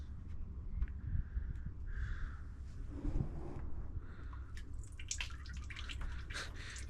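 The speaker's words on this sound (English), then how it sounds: "it's leaking everywhere." Brake fluid drips and trickles while the brake lines of a Nissan 350Z drift car are bled, a steady wet patter with irregular drops heard close up and no talking.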